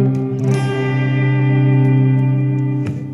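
Electric guitar playing the chorus of a song, a sustained chord ringing out with chorus-like shimmer and reverb, loud and alone, with a fresh strum near the end.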